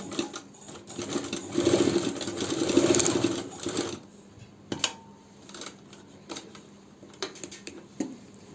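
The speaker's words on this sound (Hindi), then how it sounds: "ये पॉकेट को अब स्टिचिंग कर देते हैं।" Sewing machine stitching the pocket of a child's khan dress, with a loud rapid whirring run early on, then short bursts and isolated clicks and clunks.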